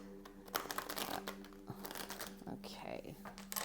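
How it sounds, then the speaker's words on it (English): Tarot cards being shuffled and cut, a run of soft riffling and crinkly card slaps close by, with a voice talking over them. "while I'm doing the shuffling and the cutting of the deck."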